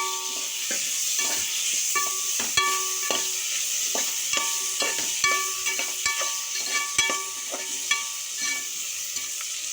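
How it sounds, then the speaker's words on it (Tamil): Onions sauté in a pan for mutton biryani, with a continuous hiss of frying broken by repeated scraping and clinking strokes of a spoon against the pan. "வெங்காயம் வதக்கி வச்சு தக்காளி போட்டுக்கலாம்."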